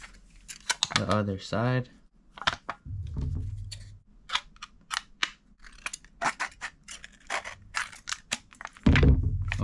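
Scissors make a series of sharp, crunchy snips through a thin aluminum soda can, with a few dull thunks and brief speech mixed in.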